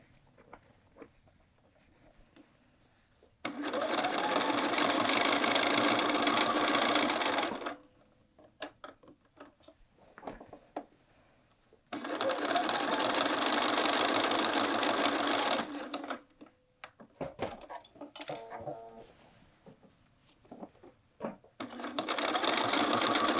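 A sewing machine runs through the thick layers of a quilted Tamarack jacket's side seams in three loud, continuous stitching runs. Quieter pauses with rustling and handling noises come between them.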